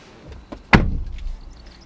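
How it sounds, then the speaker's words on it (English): A Kia Picanto GT Line S car door swings shut with a single solid thud, close and sharp, followed by a short fading rattle in a quiet space. "Let's see what the door sounds like."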